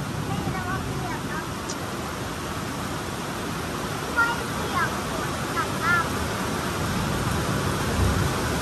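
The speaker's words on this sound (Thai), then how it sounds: "ลมฝน" Constant rain and wind roar in the background while a few faint, high chirping sounds come and go over the steady noise.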